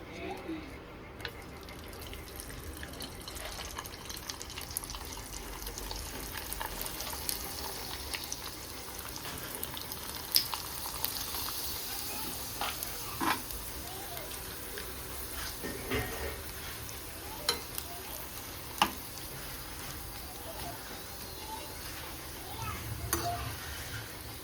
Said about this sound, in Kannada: ಈಗ ಸ್ವಲ್ಪ ಹಪ್ಪಳ ಕರಿತಾ ಇದ್ದೀನಿ. ಇದು ಬಂದು ರಾಗಿ ಹಪ್ಪಳ ಕೂಡ ಇದೆ ಮತ್ತು ಅಕ್ಕಿ ಹಪ್ಪಳ ಕೂಡ ಇದೆ.